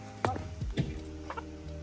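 Farmyard chickens and a rooster cluck close by in short, scattered calls over a low background hum.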